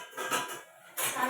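A metal lid lifted off a cooking pot of boiling ash gourd, giving two short clattering metallic bursts with a quieter pause between, close and fairly soft.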